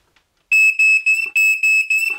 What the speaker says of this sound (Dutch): Heb jij ook melders hangen zo? Mag ik even kijken of ze werken?